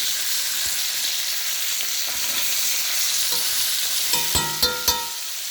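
Lobster tail and claws sizzle steadily in a hot pan, a constant hiss of frying with a few sharp stirring clicks and knocks near the end, no talk.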